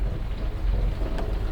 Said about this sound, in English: It's raining as we speak.